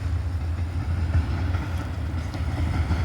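Freight train of covered hoppers, including an old Southern car, rolling past in Abbeville, a dense steady rumble with low wheel clatter, close and continuous with no voices.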